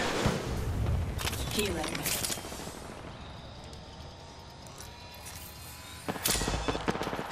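Gunfire in the video game Apex Legends: sharp bursts of shots crackle near the start and again near the end, with a game character's voice speaking between them.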